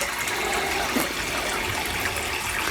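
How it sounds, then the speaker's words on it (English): A FallPonic hydroponic waterfall pumps water from its reservoir, producing a steady, dense rushing and splashing flow that stays constant and close throughout. "So we're gonna go ahead and turn on our waterfall."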